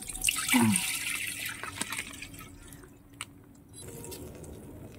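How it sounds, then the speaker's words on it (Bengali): Cooked, softened chana dal for a sweet payesh being poured out of a pot, a thick wet pouring and splashing near the start that fades into quieter dripping and faint kitchen clatter, with no talking. "এইবার আমি ডালটা ঢেলে নিচ্ছি।"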